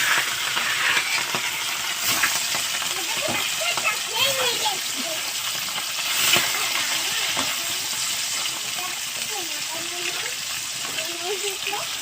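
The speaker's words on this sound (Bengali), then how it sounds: "এবার আমি মাছটা ভেজে নেব" Fish coated in salt and turmeric hitting hot oil in a home kitchen gives a steady, broadband sizzle and spatter throughout, with brief louder bursts, continuous and close.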